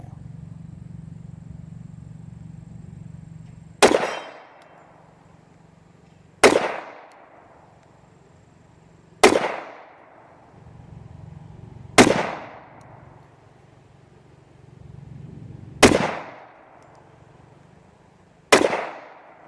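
A Springfield 4.5 pistol in .45 ACP fires six single shots, loud and sharp, spaced about three seconds apart. Each shot has a short ringing tail, and a low engine-like hum sits underneath between the shots.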